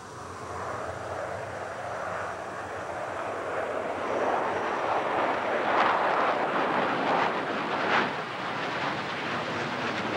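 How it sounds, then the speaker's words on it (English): Several MiG jets fly formation aerobatics as a team of six with a seventh solo, making a steady broadband jet roar heard from a distance that swells in the middle, with no talk. "The Swifts fly a mixture of single and two-seater MiGs, generally in a group of six, with a seventh aircraft flying solo."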